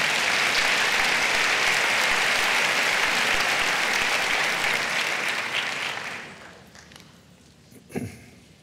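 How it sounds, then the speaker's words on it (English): Audience applause in a school district faculty back-to-school celebration, a loud sustained wash of clapping that fades out after about six seconds, followed by a single thud. "Welcome her with your applause."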